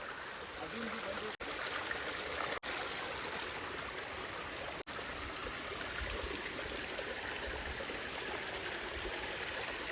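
Broadband rushing water of a drying waterfall in a dam area near Igatpuri, a steady continuous wash heard close and fairly loud, with brief dropouts and no talk.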